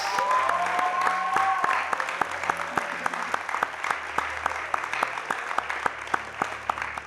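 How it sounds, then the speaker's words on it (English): Sustained audience applause for the national champion of a school quiz competition, a dense steady wash of many hands clapping that carries on throughout at a fairly loud level. "Let's now give another well-deserved round of applause to our champion"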